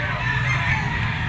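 A yellow-legged sweater gamecock crowing, a loud, close, strained call that holds steady for over a second.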